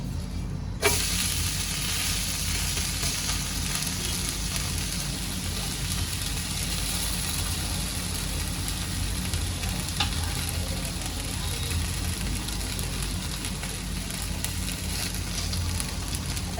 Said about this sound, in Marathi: मी तो एका साईडनी चांगला त्याला शेकून घेतलेला आहे आता ह्याला मी पलटी मारून घेते